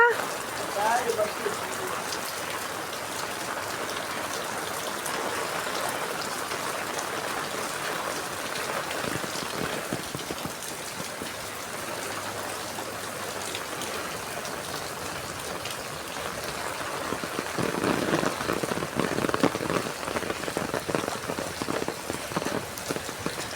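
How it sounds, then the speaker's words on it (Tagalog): Steady early-morning rain pattering on surfaces, dense and continuous, growing heavier near the end, with faint voices underneath. "maulan na umaga"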